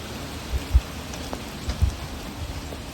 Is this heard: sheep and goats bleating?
no